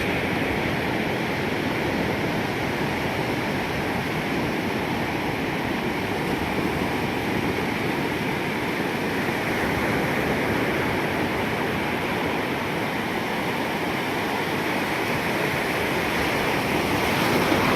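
Ocean waves wash steadily onto a beach at sunset as the tide rises, a continuous, loud roar of surf with no break and no voices.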